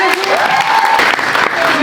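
Dense clapping from a school theatre audience for the musicians after a Molière play, a brief continuous burst with a few voices calling out over it.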